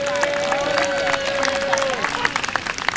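An outdoor festival crowd at Yerba Buena Gardens in San Francisco applauds the dancers at an Indigenous Peoples Day event, steady clapping with a few cheers, close and lively throughout, while an amplified voice talks over it.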